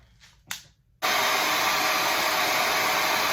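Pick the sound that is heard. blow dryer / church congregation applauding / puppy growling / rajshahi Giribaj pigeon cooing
blow dryer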